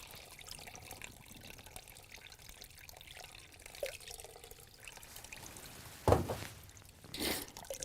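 Hot water splashes and trickles steadily as grains are rinsed in a colander during home beer brewing, rising to a brief louder gush near the end, with no voices.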